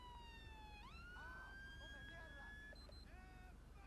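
A police car siren in GTA 5 wails in rising and falling tones, fairly faint behind low background noise, and a voice murmurs briefly underneath.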